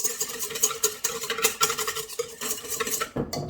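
A utensil stirring milk and oil together in a bowl for croissant brioche dough, with quick repeated scraping and clinking strokes against the container, close and fairly loud, ending in a brief clatter.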